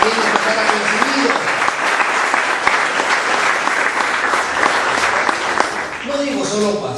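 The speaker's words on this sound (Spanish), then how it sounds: "Dale un aplauso al Señor" Church congregation applauding loudly and steadily for about seven seconds, a dense wash of clapping with some voices and shouts mixed in near the end.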